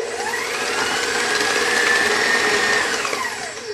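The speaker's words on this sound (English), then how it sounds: "we're gonna blend that right up really" A kitchen blender whips egg white for gluten-free hot cross buns, giving a loud, steady whir whose pitch rises and then eases back. The motor runs alone, close to the microphone.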